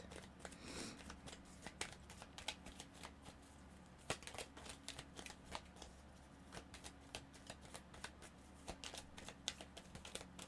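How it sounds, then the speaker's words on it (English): Oracle cards are shuffled quickly, giving a quiet, steady run of soft riffling clicks and flutters that continues alone for about ten seconds. "I just wanted to shuffle those really quickly,"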